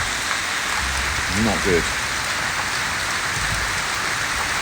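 Heavy rain pours steadily onto a beach house building site in Barbados, driven at an angle against a freshly built wall and into the pool. It is a loud, constant wash, with a brief spoken remark partway through.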